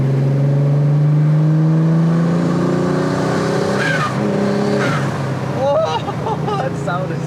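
A twin-turbo V6 in a Mercedes 190E revs hard, climbing in pitch with a loud turbocharged roar, then gear shifts and whooshing bursts as it keeps accelerating close by.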